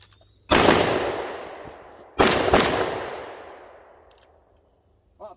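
Two sharp pistol shots at a target, fired with a 7-pound standard recoil spring and one shock buff on a competition 2011, each crack loud and close with a long echoing decay, spaced about two seconds apart.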